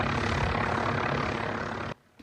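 Army tactical drone lifting off, a loud steady buzzing propeller-engine whine that carries for about two seconds and then cuts off abruptly.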